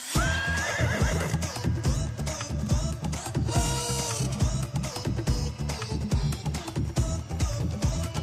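A horse whinnies loudly amid a busy, dense mix of music and clattering, with the high neigh standing out briefly near the start.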